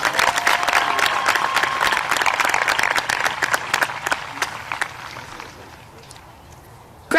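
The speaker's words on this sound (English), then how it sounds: "So let's give them one more round of applause." A crowd at a graduation ceremony applauds loudly, the dense clapping holding steady before thinning out and fading to scattered claps near the end.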